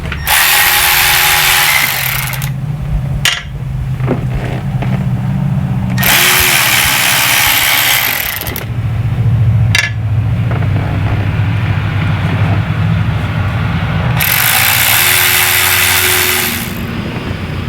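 Power tool driving out the three thermostat housing bolts on a school bus engine, with repeated loud bursts of several seconds each separated by short pauses and a steady low engine hum underneath.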